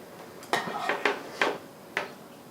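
Hot spare ribs in barbecue sauce are stirred in a pan, giving about five sharp utensil knocks against the metal at an irregular pace, fairly quiet and close.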